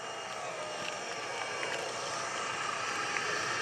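Gary Ward's MX2 aerobatic airplane passes at a lakeside airshow with a faint, wavering propeller-engine drone that rises and shifts in pitch as it flies by, heard from afar over open-air background noise.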